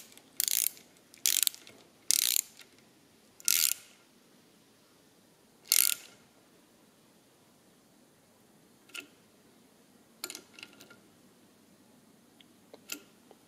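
A tool clicks and ratchets in several short, crisp bursts while a pedal adjustment is tightened, close and fairly loud, followed by fainter scattered ticks with quiet pauses between them.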